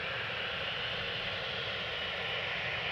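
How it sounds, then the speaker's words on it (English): A United airliner takes off at Amsterdam Schiphol airport, its jet engines making a steady, broad roar that stays loud and unbroken throughout. "This is United Flight 21, taking off."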